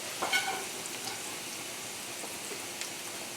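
Fresh sliced garlic sizzling in butter with a little olive oil in a pan for an end-of-summer pasta, a soft, steady crackling hiss with a few brief pops near the start, fairly quiet throughout.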